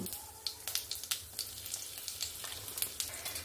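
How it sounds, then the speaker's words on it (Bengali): Cumin, two cracked dried chillies, a bay leaf and asafoetida sizzle in hot oil as a tempering for a vegetarian drumstick and lentil-dumpling dish, a steady crackle with small sharp pops scattered throughout, close and alone. "আমি এখানে ফোড়নে দেব সামান্য একটু জিরে, 2টো শুকনো লঙ্কাকে আমি এরকম ফাটিয়ে নিয়েছি, একটা তেজপাতা আর সামান্য একটু হিং।"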